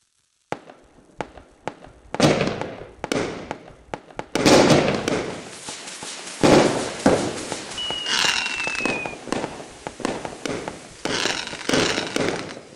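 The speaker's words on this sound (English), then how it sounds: "It was just a mix of all fireworks." Every fireworks tube in the FWPLAY video game is lit off at once, a dense barrage of loud bangs, crackles and booming bursts overlapping for several seconds, with one brief whistling streak and no talking.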